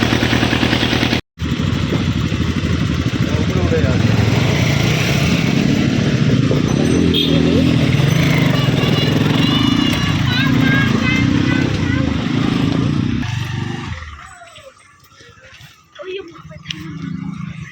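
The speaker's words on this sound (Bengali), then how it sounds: "এখন নৌকা ছাড়ছে" A boat engine runs loud and steady as the boat departs, a continuous motor drone that drops away near the end, with people talking over it.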